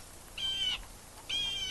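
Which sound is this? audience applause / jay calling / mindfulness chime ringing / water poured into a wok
jay calling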